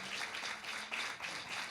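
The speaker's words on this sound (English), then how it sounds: "So give her a round of applause, please." Audience applause at a women's award dinner: a dense, steady wash of many hands clapping together throughout, with no voices standing out.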